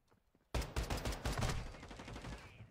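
A rapid burst of automatic gunfire erupts from near-silence and rattles on loudly for about two seconds in a multiplayer shooter video game, then tails off.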